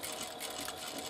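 A sewing machine stitching a seam on a fabric wristlet, a steady fast mechanical whirring and rattling at close range, heard alone for a brief moment.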